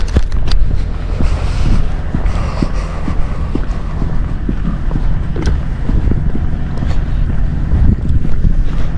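A Sea-Doo personal watercraft runs on water, its engine droning low under heavy wind buffeting and splashing slaps, loud and close throughout.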